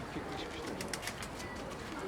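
Soft pigeon cooing in short repeated murmurs, faint beneath a constant hiss of outdoor background noise.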